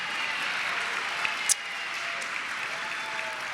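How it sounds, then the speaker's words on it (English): Steady audience applause for honorees rising to stand at a credit union hall of fame induction ceremony, an even, moderately distant wash of clapping with one brief sharp clap standing out. "please stand and let's give them a round of applause"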